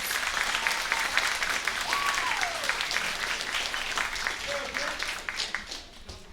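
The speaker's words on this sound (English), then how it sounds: "let's give them another round of applause" An audience at an 8th grade celebration applauds a school band taking its seats, broad continuous clapping from a crowd filling the room, with some voices faintly mixed in.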